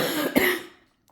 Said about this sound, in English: Please just forgive all my coughing.